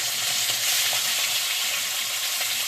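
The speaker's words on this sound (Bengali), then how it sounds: "তেলের জিরেটা ভাজা হয়ে গেছে এবার আমি মাছগুলো ছেড়ে দিচ্ছি" Small shrimp hit hot oil seasoned with fried cumin seeds in a kadai, producing a steady, loud, dense sizzle with faint stirring underneath.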